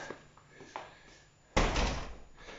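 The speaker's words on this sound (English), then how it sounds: "And you're coming through the front door." The front door of a small apartment in Argostoli, Kefalonia, Greece opens with soft creaks and clicks, then shuts in a loud, close slam that rings briefly.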